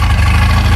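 A boat engine idles steadily in a loud, constant low rumble, close and alone, with no talk over it.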